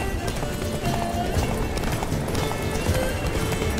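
Roach, Geralt's horse in The Witcher 3: Blood and Wine, galloping in a steady rapid clip-clop of hooves, close and continuous, with game ambience beneath and no talking.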